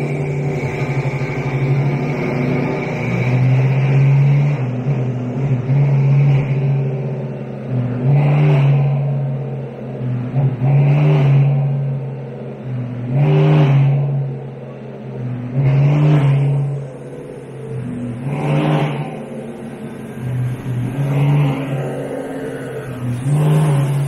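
A Gen V 5.3 L L83 direct-injection V8 at full throttle on a dyno, loud and close, with repeated surging pulls that rise in pitch and fall back across the run.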